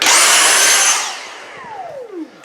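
Dyson V6 cordless handheld vacuum running with a loud, close high-pitched whine, then spinning down with a falling motor tone that trails off over the next second or so, no talking.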